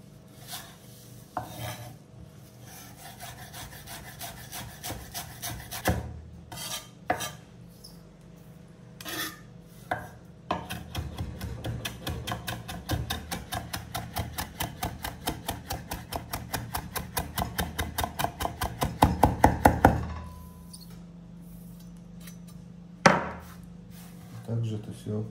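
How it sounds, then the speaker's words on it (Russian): Fresh thyme and herbs being finely chopped with a knife on a board, a long run of quick, dry rhythmic taps that speed up and grow louder before stopping, with brief pauses and a few heavier knocks. "Теперь мы это хорошенько измельчим."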